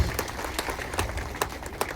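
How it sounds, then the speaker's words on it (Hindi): Scattered hand claps from an audience at a political rally in Korba, a steady patter of applause with a few sharper claps, moderately loud and continuous for a couple of seconds. "एक बार जोरदार ताली बजा के स्वागत करो आदरणीय कंवर जी।"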